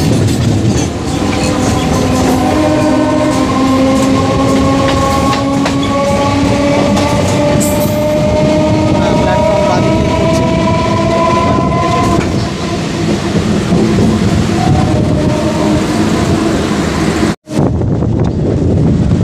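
A Howrah–Bardhaman Chord Local electric train pulls into Shaktigarh station, a loud steady rumble with long horn-like tones and wind buffeting close by, ending in a brief dropout.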